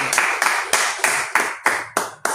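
A church congregation applauding in praise of the Lord: several sharp, evenly spaced bursts of clapping in a quick rhythm, close and fairly loud, with no voices.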